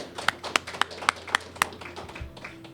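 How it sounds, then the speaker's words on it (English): A few people clap at an economic development event in Northern Nevada, with a handful of sparse, evenly spaced claps close by that fade out within about two seconds. "Let's give them both a round of applause."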